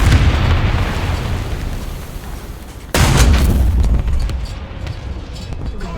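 A HEAT shell fires from the M8 HMC tank in War Thunder, a sharp loud boom partway through that rises over a steady rumble of engine and battlefield noise.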